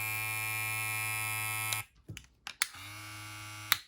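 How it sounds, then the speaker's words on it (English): A StyleCraft Mythic hair clipper with a brushless motor hums steadily and close, stops with a few clicks and handling knocks, then starts again and keeps running. "this is the most quiet clipper I've ever used"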